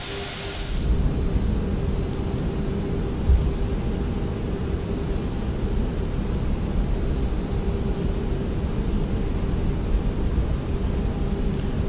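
A heavy Toliss A340-600 airliner taxis in MSFS, rolling over taxiway markings with a steady broadband engine roar and hiss throughout, a faint bump near the middle, no voices.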